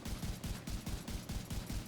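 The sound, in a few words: rifle gunfire in video game The Division 2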